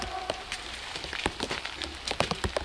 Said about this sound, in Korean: 비가 와서 요거 옮기기 좋은 날 같아요.